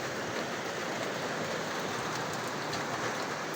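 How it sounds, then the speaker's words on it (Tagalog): Heavy rain falls at night during a Signal No. 2 storm, a soft, even roar of drops pattering on surfaces, steady and unbroken, fairly faint with no voices. "Ako nakikinig lang po ako sa tunog ng ulan."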